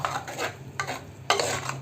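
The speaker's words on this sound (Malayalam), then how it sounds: "നന്നായിട്ടൊന്ന് ഇളക്കി കൊടുക്കണം കേട്ടോ" A spoon stirs coconut paste through a thick pumpkin curry in a pot, with soft scraping strokes in a few bursts and a faint sizzle underneath.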